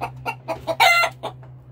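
Several short clucks from roosters in quick succession, then a strained rooster crow, close by, followed by another cluck.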